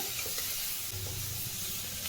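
Food fries in a pan while broad beans are cooked for a winter dish, a soft, steady sizzle with occasional stirring scrapes, quiet and close, with no talking.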